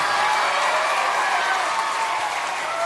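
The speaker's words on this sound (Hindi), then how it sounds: "ताली बजा दो एक मिनट।" Audience clapping at an Independence Day talk, dense and steady from start to finish, a loud full-room applause with no break.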